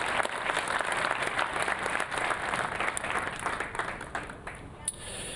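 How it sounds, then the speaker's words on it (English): Crowd applause at a Veterans Day ceremony in Pico Rivera, a dense steady wash of clapping from a large audience that carries on evenly and begins to thin near the end. "Big round of applause for our Veterans Commission here in Pico Rivera."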